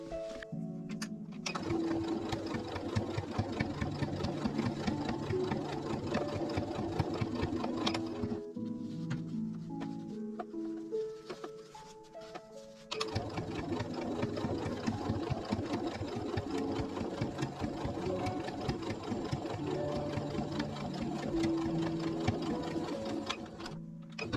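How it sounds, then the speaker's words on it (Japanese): A sewing machine stitches a seam through three layers of fabric at a 7 mm seam allowance for a tulip-style bag: a steady, rapid mechanical whir, close and loud, that eases off briefly midway and then picks up again. "3枚で合わせてここ縫っていきます。"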